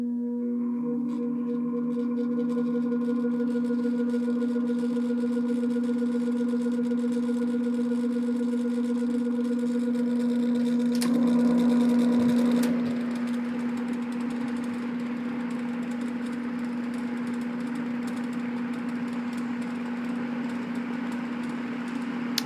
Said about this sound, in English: I think this fan has a weak startup winding because it seems to have troubles getting up to speed on low